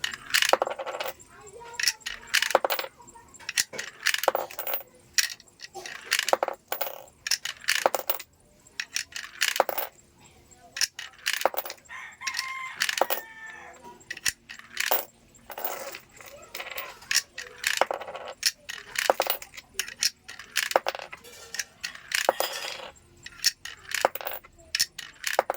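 Coins clatter one after another through a universal coin slot on a carwash vendo machine, a long run of sharp metallic drops and rattles in irregular bursts, close and fairly loud with no talking.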